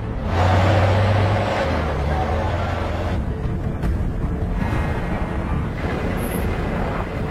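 A container truck drives along in an Indonesian action film, with a loud, continuous engine roar and rumbling road noise that holds steady throughout, plus a brief higher whine near the end.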